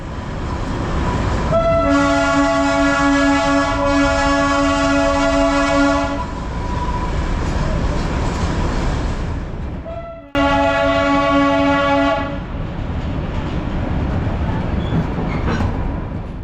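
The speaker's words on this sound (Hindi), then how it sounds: "कैसे ट्रेन बीच बाज़ार से घूम रही है" The Darjeeling toy train rolls through the bazaar near Kurseong railway station, sounding two loud, sustained horn blasts over a continuous rumble of wheels and engine, close and dominant.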